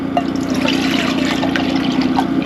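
Water trickles and splashes steadily into a pot at an ice-fishing camp, close and continuous, over a low constant hum.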